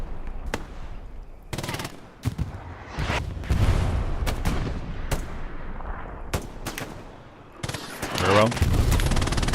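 MG42 machine gun laying down suppressing fire in a console war video game: bursts of loud automatic fire and sharp single cracks, some near and some farther off, spread across the stretch, with a brief spoken remark and a heavy sustained burst at the end.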